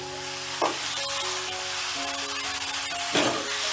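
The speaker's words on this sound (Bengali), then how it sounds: "এবারে লাউটাকেও ফোড়নের সঙ্গে একটু নাড়াচাড়া করে নেব।" Bottle gourd is stirred in hot oil with tempering spices: a dense, continuous sizzle up close, with two soft scraping stirs of a utensil against the pan and no voices.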